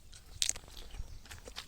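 A small, crisp wild plant being bitten and chewed outdoors in late winter, with a few close, sharp crunches and softer chewing.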